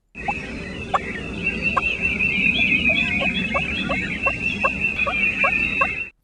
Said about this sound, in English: Before hens have flown down from the roost, they can be heard making a tree yelp call.